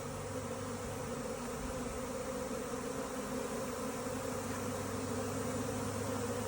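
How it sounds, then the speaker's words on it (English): A swarm of bees arrives at old hives in a yard, making a dense, continuous buzzing drone that stays loud and steady throughout, with no voices. "it looks like we got a swarm coming in right here"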